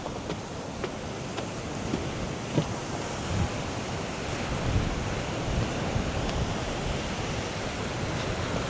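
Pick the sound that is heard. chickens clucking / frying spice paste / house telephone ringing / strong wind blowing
strong wind blowing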